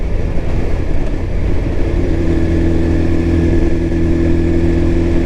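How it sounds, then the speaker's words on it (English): A 2018 BMW 1000 superbike engine runs loud and close, a continuous rough exhaust drone with steady engine tones and crackly popping texture throughout, no voices. "Oh, sounds so good, this popping and banging."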